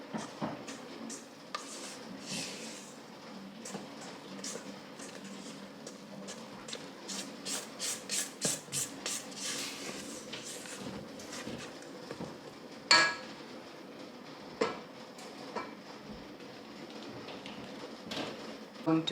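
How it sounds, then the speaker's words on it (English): Flour mixture of dry ingredients being folded bit by bit into a butter mixture for a vanilla cake batter, giving a run of soft, close scraping and rubbing strokes in a steady rhythm, with a few sharper clinks of utensil against bowl. "Bit by bit, I'm going to fold the flour mixture, the dry ingredients,"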